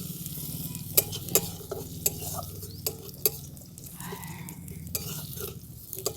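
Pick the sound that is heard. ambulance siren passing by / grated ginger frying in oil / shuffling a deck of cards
grated ginger frying in oil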